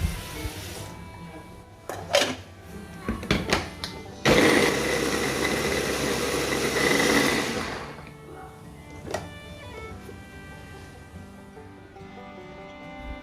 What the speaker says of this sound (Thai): ล้างน้ำแล้วเราก็จะไปปั่นกันจ้า